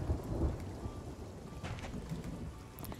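Steady rain in the Sea of Thieves pirate video game, a dense broadband hiss with a deeper rumble early on, continuous and fairly close throughout.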